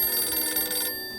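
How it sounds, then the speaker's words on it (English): Telephone ringing in the video game Dracula 3: Path of the Dragon, a bright electronic ring that sounds continuously and then cuts off near the end, with no voices. "Oh, God. Phone ringing."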